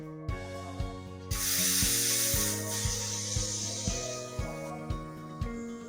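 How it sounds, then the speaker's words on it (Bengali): Steam releases from a pressure cooker used to boil sweet potatoes in a home kitchen, a loud rushing hiss lasting a few seconds. A series of regular tonal clanks and chimes plays around it. "আমরা কুকারে 2টা মতো সিটি দিয়ে স্টিমটা রিলিজ করে নিচ্ছি"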